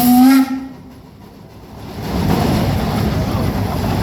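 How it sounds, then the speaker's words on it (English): A 1916 Case 50 horsepower steam traction engine at a show in Pawnee gives a loud, short whistle blast that cuts off, followed by a rising, steady rush of steam hiss. "The Kenneth Kelly Estate engine from here in Pawnee, 1916 case, 50 horsepower"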